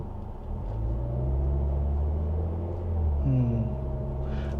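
A Tata Harrier petrol SUV with an automatic gearbox pulls away from rest, its engine rumble and a low torque converter drone rising, then the pitch shifting as a gear change comes through, steady and close inside the cabin.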